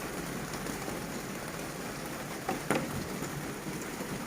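Rain falls steadily on outdoor surfaces around potted succulents being watered, a soft, even patter with a couple of brief louder splashes or knocks partway through and no speech.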